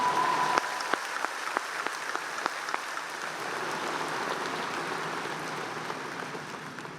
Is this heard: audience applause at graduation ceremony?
yes